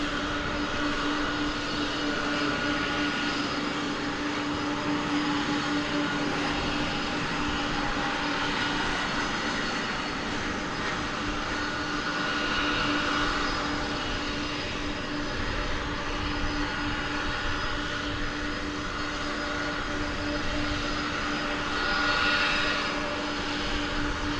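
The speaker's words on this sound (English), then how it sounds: "American Flight 4926 from Stillwater, Oklahoma, CRJ 701ER. Just touching down on runway 18 right." A CRJ 701ER regional jet touches down on runway 18 right at DFW Airport, a steady distant engine roar with a sustained whine that swells slightly and holds throughout.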